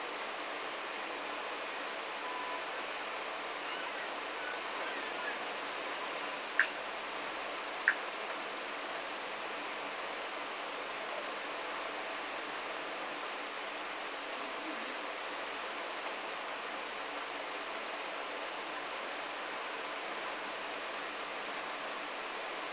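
A running shower in The Sims 2 on PS2 makes a soft, even hiss of falling water that holds steady for the whole stretch, broken only by two faint clicks, with no voices.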